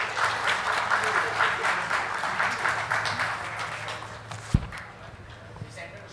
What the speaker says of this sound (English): Ladies and gentlemen, a big round of applause to my panelists.